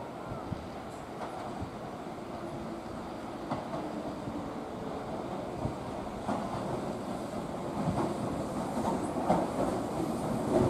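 A limited express train bound for Yodoyabashi moves at platform 2 of Chushojima station on the Keihan Main Line, with a low rumbling roll, faint rhythmic clacks of wheels, wind buffeting the microphone and a soft background voice.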